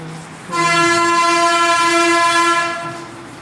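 Loud truck horn blares outside in one sustained, bright blast lasting about two seconds, then fades, over low background noise.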